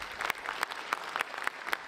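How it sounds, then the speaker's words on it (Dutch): Applause from a small audience at a comics festival in Breda, with a few sharper individual claps standing out at regular intervals over a steady, moderate patter. "En een applaus voor Goedemiddag. Rob."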